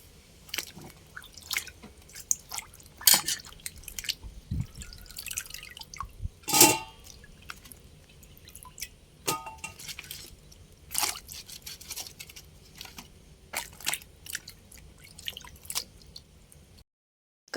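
Water drips off freshly washed okra (ladies' finger) left to drain, a long run of faint, irregular small taps and wet drops with occasional louder splats and no talking.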